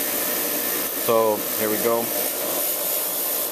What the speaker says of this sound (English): I'll probably wire wheel these threads here just to make sure that I clean them up.